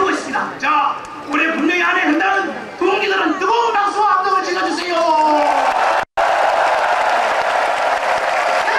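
An audience at a labor rally with songs bursts into loud, sustained applause and cheering that swells across the crowd, with an amplified voice speaking over the clapping.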